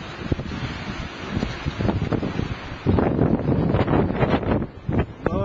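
Strong gusty wind roars around an AIR 403 wind generator, buffeting the microphone in uneven surges that grow louder partway through, with rustling and flapping mixed in.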